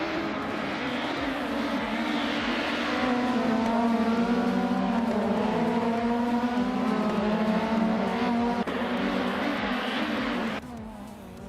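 WTCC touring race cars driving in a racing video game, a steady loud engine drone holding a sustained pitch with rising harmonics, a continuous pack of engines running close throughout before dropping slightly near the end.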